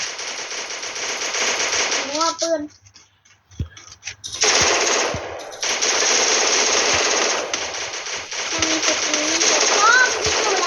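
A Thompson submachine gun firing in the game Free Fire, with rapid sustained bursts of automatic gunfire in long strings separated by a short pause, while someone talks over it.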